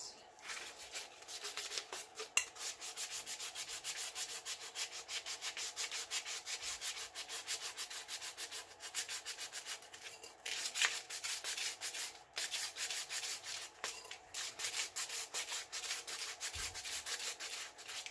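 Sandpaper rubs over a glitter tumbler in steady, close, rhythmic back-and-forth strokes, a continuous soft scratchy rasp with brief pauses between passes.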